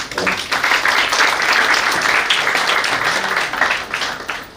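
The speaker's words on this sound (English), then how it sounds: "So I would like all of you to give them a round of applause" A crowd applauds steadily, dense clapping filling the whole stretch at a loud, even level with no speech over it.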